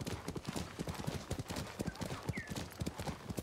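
A horse's hooves clip-clop in a brisk, even rhythm across a landscape in Ghost of Tsushima, close and clear, with a faint snort or whinny partway through.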